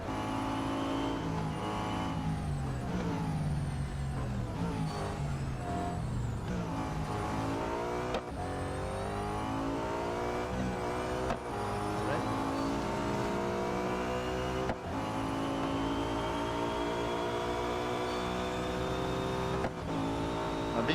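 Nissan R390 GT1 race car in Real Racing 3, its engine roaring continuously with rising and falling revs through gear changes, loud and close for the whole stretch.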